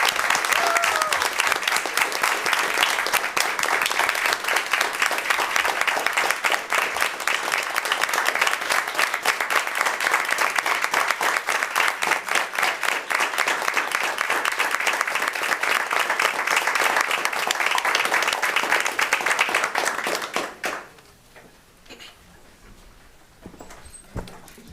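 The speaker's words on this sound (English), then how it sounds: "can we give them a huge round of applause?" Sustained audience applause after a school committee meeting honoring a team, loud and dense for about twenty seconds before stopping abruptly, leaving quiet room noise with faint murmurs.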